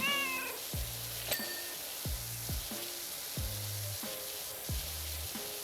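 Cartoonish cat meows from PowerWash Simulator 2, several short descending cries repeating at a steady rhythm about once a second, with a faint hissing spray underneath and no talking.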